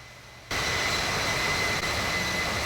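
Aircraft engines in the Infinite Flight flight simulator game come in abruptly as a loud, steady jet roar with a constant high whine. The roar holds evenly and no one talks.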